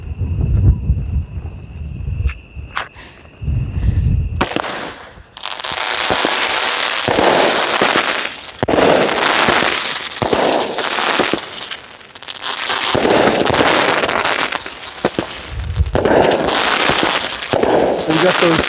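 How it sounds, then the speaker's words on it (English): Instant Replay 200-gram firework cake fires a rapid series of loud crackling shots, each followed by delayed chrysanthemum bursts; the sustained booming and crackle runs close and dense for most of the time after a quieter opening with a few pops. "we got those delayed chrysanthemums after every shot"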